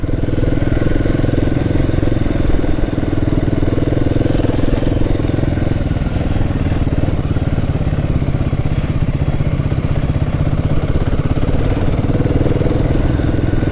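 Motorcycle engine running steadily as it is ridden, a loud, constant mid-pitched drone with clattering texture throughout, close to the listener with no talking.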